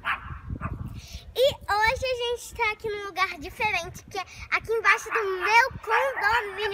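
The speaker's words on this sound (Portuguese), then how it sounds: "Desculpa o barulho dos cachorros, é que tem outros cachorros aqui, tá?" Several dogs bark in a residential condominium's ground-floor area, short yips and barks scattered close by while someone talks over them almost continuously.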